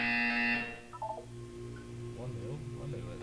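A game buzzer from Portal 2 sounds loudly for about half a second as a steady harmonic electronic tone, then cuts off, leaving a quiet room hum with faint background voices.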